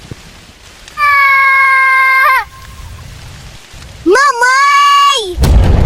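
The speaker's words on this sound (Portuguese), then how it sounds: "Raios e trovões assustaram a Liazinha." Steady rain falls through a stormy night with a rumble of thunder near the end, partly covered by two long, sustained tonal sounds.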